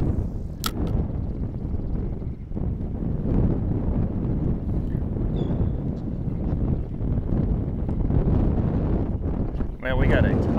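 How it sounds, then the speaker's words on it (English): Strong wind buffets the microphone on a Florida fishing beach, a loud, steady low rumble throughout with brief higher clicks, and a voice speaks over it. "Man, we got a ton of wind."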